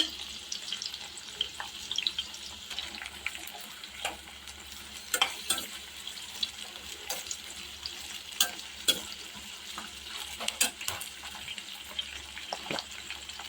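Green chillies fry in a tablespoon of oil in a home kitchen pan, a soft steady sizzle broken by intermittent scraping stirs and light clinks, fairly faint and with no talking.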